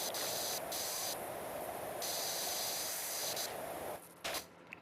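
A pressure washer jet sprays in the video game PowerWash Simulator 2, a loud, steady hiss that cuts off and restarts in bursts, then stops with brief spurts near the end.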